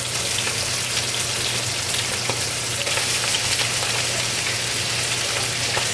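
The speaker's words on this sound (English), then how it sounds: "start grabbing handfuls of cabbage, and I'm just going to put them into my pan here to cook" Cabbage frying in bacon fat in a pan gives a steady, loud, even sizzle with a low hum underneath, constant throughout without pauses.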